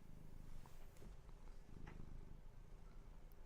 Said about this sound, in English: The microphone's like right in his face.